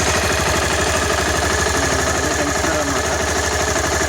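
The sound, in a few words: Honda CBR 250R engine idling with loose cam chain tensioner noise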